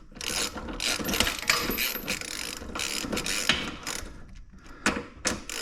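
A hand ratchet snugs the bolts of a Highlifter 2-inch lift kit on a Kawasaki Brute Force 750 ATV, giving repeated close bursts of rapid metallic clicking with short pauses between them.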